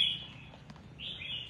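Caged pet songbird named Bánh Mì, just finished moulting, gives a couple of high clear chirps and a longer sliding whistle, moderately loud over a low steady hum.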